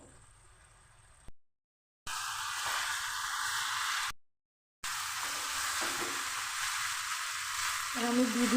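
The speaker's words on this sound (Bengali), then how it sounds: "লো টু মিডিয়াম করে চিকেনটা আমি কষে নেব।" Chicken sautéing in a pan over a low-medium gas flame for chicken momo filling, a steady broadband sizzle that holds at an even level, broken by two short silent gaps.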